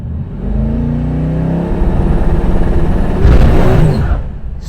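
A twin-turbo Hemi truck revs hard and spins its tires, a loud, close engine roar with a rising whine and a burst of tire noise near the end; no one speaks.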